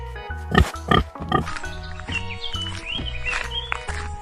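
A pig grunts and oinks in several short bursts early on, set against a bright, busy musical backing with synth tones that continues throughout.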